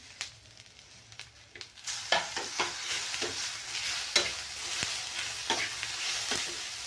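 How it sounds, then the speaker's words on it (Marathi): Onion, grated coconut and tomato roast in a pan, with a soft sizzle and a run of scraping stir strokes that grows louder after a quiet start and keeps an uneven rhythm. "आता टमॅटो सुद्धा आपल्याला घ्यायचं आहे भाजून टाकून"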